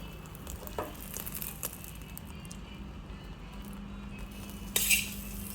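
Butter and an egg omelette sizzle softly in a pan, a steady low frying hiss broken by a few faint utensil clicks and a brief scrape near the end.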